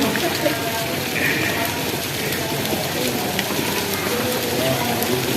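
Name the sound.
heavy rain falling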